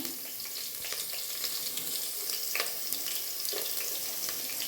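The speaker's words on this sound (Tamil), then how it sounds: "இது போட்டுட்டு நம்ம கொஞ்சம் வதக்கலாம்" Crushed garlic cloves sautéing in a pan with mustard seeds, onion and curry leaves, giving a steady close sizzle and crackle with occasional stirring scrapes and no voices.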